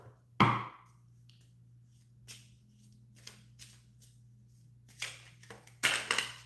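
A sharp slap of tarot cards hitting the floor, followed by scattered soft taps and a final burst of rustling and clattering, close by.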